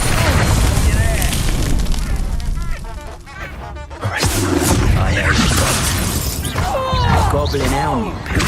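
Confringo fire spell blasts in a Hogwarts Legacy battle, loud bursts and shattering crashes amid dense combat noise, with voices shouting over the chaos.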